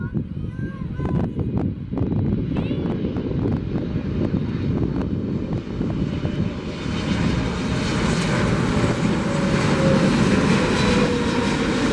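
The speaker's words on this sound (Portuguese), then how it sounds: "É muito bonito esse avião." Large airliner beside the Recife airport wall, engines roaring loud and close with a steady, growing rumble and hiss over twelve seconds, with wind buffeting the microphone and brief voices early on.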